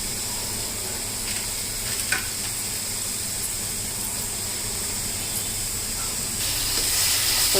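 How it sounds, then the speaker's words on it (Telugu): Cashews and almonds frying in ghee for an ash gourd halwa, giving a dense, steady hissing sizzle that swells slightly toward the end, with no talking. "నెయ్యి వేసుకొని దీంట్లో కాస్త జీడిపప్పులు, బాదం పప్పులు వేయించుకొని పక్కన పెట్టుకుందాం."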